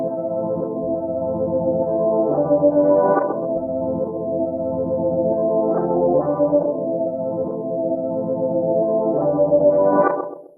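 Looped sample from the Satin Looks expansion processed with an octave-up grain delay, bandpass filter and maximizer, playing a loud, steady, layered tonal pattern with repeating pulses and shimmering upper echoes, without talking, before cutting off at the end.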